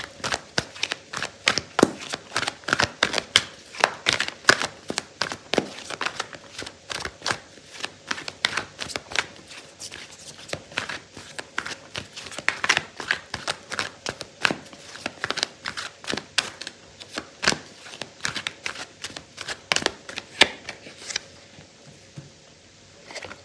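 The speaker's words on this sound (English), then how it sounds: "I'm gonna pull out a card for your advice" Tarot cards are shuffled in a long run of rapid, crisp riffling and flicking close up, the rhythm steady before it eases off and the cards settle near the end.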